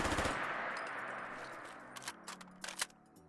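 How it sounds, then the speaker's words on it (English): A Remington ACR rifle in a Fallout 4 mod fires a loud rapid burst, then the sound fades into a series of sharp mechanical clicks and clacks as it reloads. "and of course firing and then reloading"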